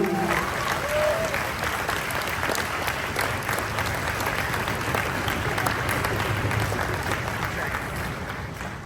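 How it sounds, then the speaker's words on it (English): A large crowd applauds steadily throughout, a dense continuous clatter of many hands clapping at an even level with no pauses. "get a round of applause for all the parents, guardians, caretakers"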